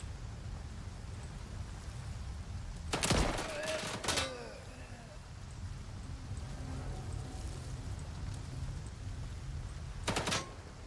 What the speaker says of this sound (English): I think it's because they're shooting in my direction.